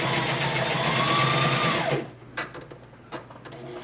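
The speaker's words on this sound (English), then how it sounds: "So we're gonna go ahead and put a straight stitch all the way around" A sewing machine runs a straight stitch around the edge of a fabric owl stuffy, humming steadily for about two seconds and then stopping, followed by a few faint clicks and handling noises.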